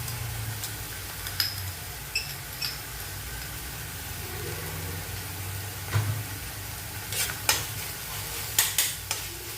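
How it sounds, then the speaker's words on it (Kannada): Ginger garlic paste fries in a pan for a mixed vegetable kurma, a continuous close sizzle broken by scattered sharp scraping and tapping strokes as a spoon stirs it. "ಇವಾಗ ನಾನು ಅದಕ್ಕೆ ಜಿಂಜರ್ ಗಾರ್ಲಿಕ್ ಪೇಸ್ಟ್ ಹಾಕ್ತಾಯಿದ್ದೇನೆ"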